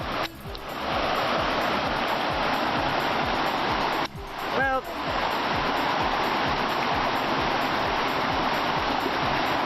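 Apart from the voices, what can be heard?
flowing river in a ravine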